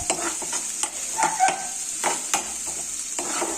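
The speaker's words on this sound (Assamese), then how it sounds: "এইখিনি মই অলপ ভাজি লৈছো" Chopped onions frying in a pan, a low steady sizzle broken by repeated close scraping and clinking stirs of a spatula, irregular in rhythm and alone without voices.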